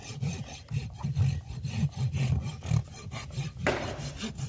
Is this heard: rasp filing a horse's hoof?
yes